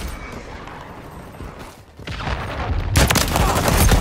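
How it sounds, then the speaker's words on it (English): Incoming gunfire in Call of Duty MW3 Invasion mode, loud bursts of shots that thicken into a dense, continuous fusillade after a short lull, close and harsh, with no talk. "Taking effective fire."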